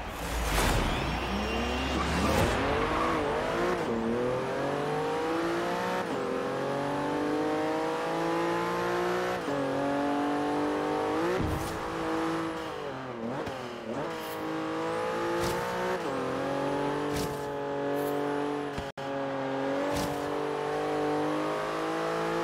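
A Nissan Skyline GT-R engine in Forza Horizon 3 revs and climbs through gears, its harmonic whine rising and dropping repeatedly with brief shifts and bumps, loud and close throughout.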